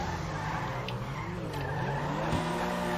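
Pfister Comet sports car in GTA 5 skidding, tires squealing with rising and falling tonal screeches over steady loud engine roar, continuous and close throughout.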